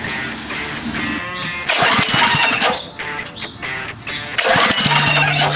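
Pull-started engine on a power washer, with repeated bursts of sputtering engine noise between cord pulls, loud and close, as it tries to catch without settling into a steady run.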